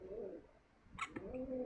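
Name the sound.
pet bird cooing in its cage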